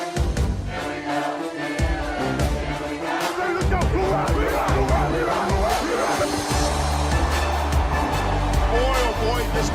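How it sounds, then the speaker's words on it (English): A stadium crowd at a Pittsburgh Steelers game roars and cheers continuously, a loud, dense wash of massed voices that swells toward the end, with scattered shouts rising out of the din. "Boy, oh boy, this crowd is alive."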